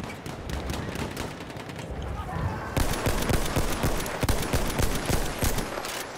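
Rapid gunfire in the online shooter Battlefield 1, with bursts of automatic fire and sharp shots crackling in dense volleys, moderately loud with a heavier barrage in the second half.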